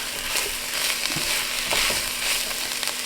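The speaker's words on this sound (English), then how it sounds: "Just get that stirred up really well, mixed together" Spinach is stirred into a pot of Italian meatball and tortellini soup, a continuous wet churning and sizzling with scraping spoon strokes, close and fairly loud, with no voices.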